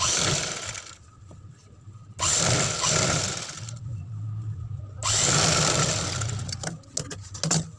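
Electric sewing machine stitching right along the edge of a suit's neckline lining, running in bursts with a steady whirring buzz that starts and stops between pauses, close and fairly loud.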